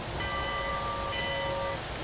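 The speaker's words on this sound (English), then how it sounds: "Here you have the bell." Standard steam locomotive bell in the High Iron train game, ringing as a steady tonal chime over a constant background hum, moderately loud and without talk.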